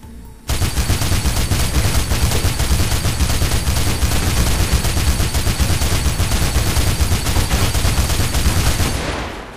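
Sustained rapid gunfire from the video game Mirror's Edge, loud and continuous for several seconds as a dense automatic burst, with no voices over it.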